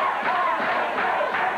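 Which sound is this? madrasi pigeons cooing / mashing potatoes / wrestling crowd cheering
wrestling crowd cheering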